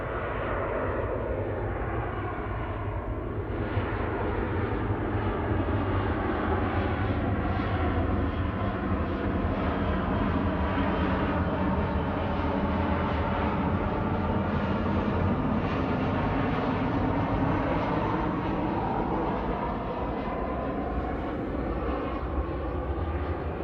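A Boeing 737-800 airliner arriving at Manchester Airport roars steadily and loudly throughout, its broad engine noise swelling and holding without a break.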